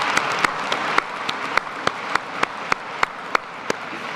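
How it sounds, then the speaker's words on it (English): Applause from a commencement ceremony crowd at Georgia Gwinnett College, broad clapping with a few sharp, regularly spaced claps standing out close by above the rest. "Maybe we should applaud."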